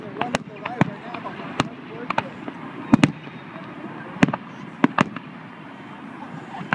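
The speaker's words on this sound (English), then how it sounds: "Did they blow up all the fireworks on the bottom already?" Independence Day fireworks burst at a distance in a scattered series of sharp, booming cracks, about a dozen irregular pops over a low rumble, with voices talking in the background between explosions.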